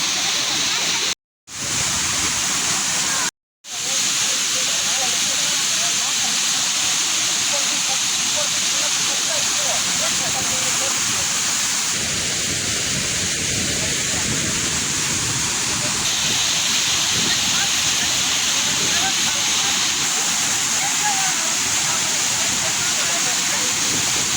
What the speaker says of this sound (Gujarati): ડેમ પરથી જે પાણીના છલકાવાનો જે પ્રવાહ છે એમનો અવાજ આપ સાંભળી શકો છો